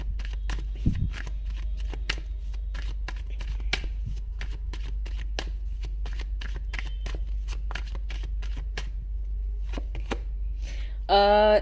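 Tarot cards are shuffled and drawn in a quiet room, making a steady run of soft, crisp card flicks and slaps that continue throughout at close range, ending with a brief louder burst.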